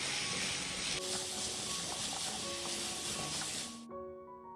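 Potatoes and vegetables being stirred in a hot pan, giving a steady, close, dense sizzle that cuts off abruptly near the end, leaving faint tonal background sounds.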